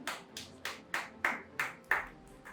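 Audience clapping in a college lecture hall: a slow, uneven run of about eight separate hand claps, sharp and moderately close, each with a short decay, with no other sound over them.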